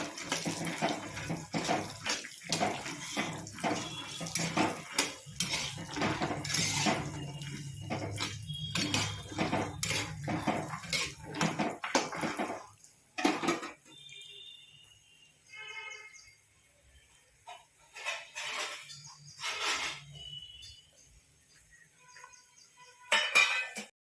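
Cashews and almonds being roasted in a pan give a busy, clattering scrape of nuts and spatula for about twelve seconds, then sparse intermittent stirring clinks and rattles with quiet gaps.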